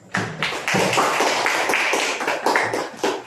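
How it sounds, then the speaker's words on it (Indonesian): A class of students in a school lesson claps together, a thick, continuous patter of hands with a few louder surges, lasting about three seconds. "Ya, silakan tepuk tangan"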